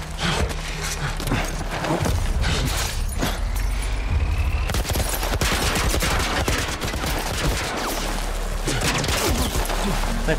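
Gunfire in the video game The Last of Us, with rapid bursts of shots and sharp cracks throughout, loud and close, under a tense game ambience with occasional talk.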